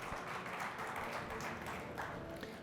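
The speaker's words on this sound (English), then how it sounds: "Please welcome them with an applause" A panel audience at a music technology talk event gives a short round of applause, a fairly faint wash of clapping lasting a couple of seconds.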